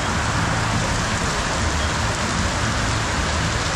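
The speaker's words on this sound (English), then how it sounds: "It's been absolutely bucketing for about a half an hour now." Heavy monsoon downpour in Pokhara, Nepal, a dense, steady, loud hiss of rain pounding on surfaces with no let-up throughout.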